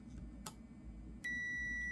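After a couple of soft clicks, a steady high-pitched electronic multimeter continuity-test beep switches on and holds, close and clean against a quiet background, while testing parts of a Pioneer CDJ-1000 with power problems.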